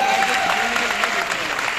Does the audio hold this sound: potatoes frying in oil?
no